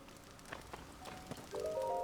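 Rain falling in a Tears of the Kingdom game village, a faint, steady patter of drops that sits quietly alone before a louder tonal game sound swells in near the end.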